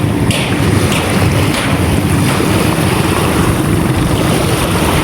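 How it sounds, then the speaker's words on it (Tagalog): Strong wind buffets the microphone at a seashore where boats have gone out, with rough waves surging in a dense, loud, continuous roar and no voices. "Medyo mahangin po ng konti."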